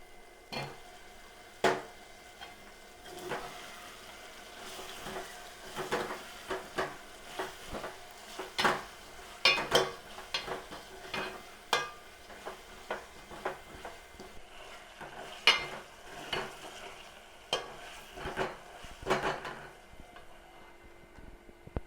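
Drumsticks tossed into a frying pan for mutton curry, with scattered sharp clinks and taps of a utensil against the pan over a quiet background, irregular and close.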